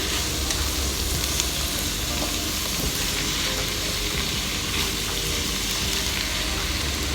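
Ground beef with mustard greens sautés in a home-kitchen pan, a loud continuous sizzle with stirring scrapes throughout, close up and without talk.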